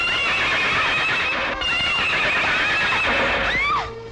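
A horse whinnies loudly and close, a long shrill neigh with a falling call near the end, hooves clip-clopping underneath, no voices.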